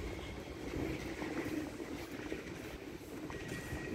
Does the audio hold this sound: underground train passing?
yes